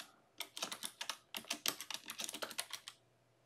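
Keys clatter in a quick, close run on a computer keyboard as a git clone command is entered in Visual Studio Code, with two dense bursts of strokes and a brief gap between them.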